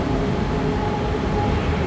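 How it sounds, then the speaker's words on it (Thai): A green line train departs a station in Thailand, a continuous loud rumble of wheels and motor with a faint high whine, steady throughout the short stretch with no voices. "สีเขียวรถไฟสีเขียวอยู่นี่ แล้ววิ่งไปแล้ว"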